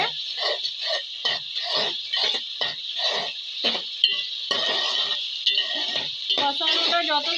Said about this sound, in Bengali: আবারও একই প্রসেসে আমি নেড়ে কষিয়ে নেবো ভালো করে।